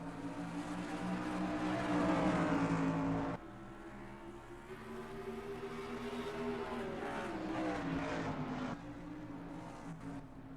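Pickup truck engines roar together on the Oswego dirt track in NR2003 as a pack of racing trucks goes green, a loud sustained drone with rising revs and shifting pitch.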